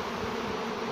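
Honey bees buzzing densely around frames being dried in an autumn apiary, a continuous close, loud droning hum with no voices.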